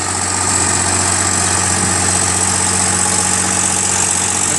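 A tractor engine drones steadily and loudly as it launches a fishing boat through the surf. The low, unbroken rumble carries a constant vibration throughout, with no voices.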